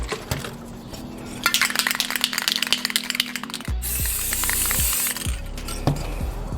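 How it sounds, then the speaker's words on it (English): An aerosol spray can sprays paint onto glass to make faux mercury glass, with a short rattle and clatter, then a sustained close hiss lasting about a second, followed by a few handling knocks. "So, spray again."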